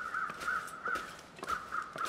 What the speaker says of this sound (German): Dort hinten höre ich auf jeden Fall schon wieder Krähen